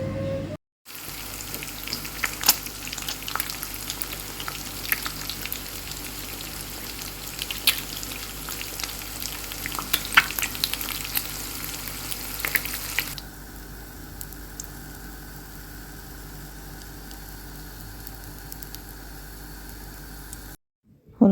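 Chicken legs frying in a home kitchen pan give a steady broadband sizzle that holds through the first half and then settles to a quieter, even crackle, with faint clinks and no talking.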